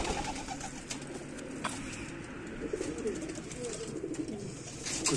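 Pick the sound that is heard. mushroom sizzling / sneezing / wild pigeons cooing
wild pigeons cooing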